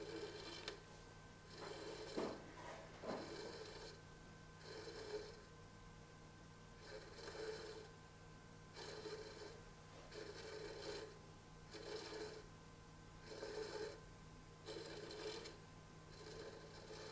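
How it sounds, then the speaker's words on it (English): Hand tool profiling a watch case ring held in a lathe step chuck that is turned by hand, giving faint, close rasping strokes in an irregular rhythm of about a dozen short bursts over a low steady hum. "I'll be just turning the step chuck around manually as I sort of work, and just gradually profile the shape into the ring."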